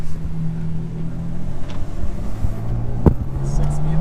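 A BMW, either an FBO M235i or a Stage 1 F80 M4, drones and accelerates from inside the cabin, its engine tone rising steadily with a sharp thump partway through.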